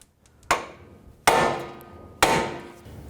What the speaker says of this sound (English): We're going to separate the ball joint. I'm going to use a pickle fork.